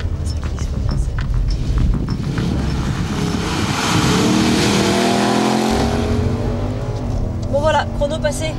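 An Infiniti concept car accelerates hard on a timed lap, its engine note climbing steadily and holding loud and close throughout, with a person talking over it.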